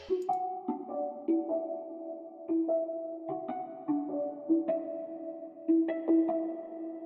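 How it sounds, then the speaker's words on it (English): A soft Omnisphere synth bell melody plays alone, plucking short repeating notes in a steady pattern, with some tones chiming higher over a mellow lower line. "this little omnisphere bell I put in the background"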